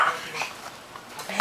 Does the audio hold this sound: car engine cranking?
no